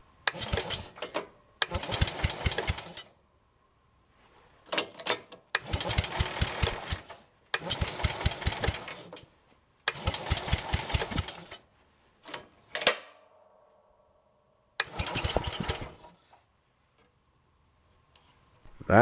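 John Deere 110 lawn tractor engine run on test, bursts of a small single-cylinder engine sputtering and cutting out repeatedly in short irregular runs, close and alone, with silent gaps between.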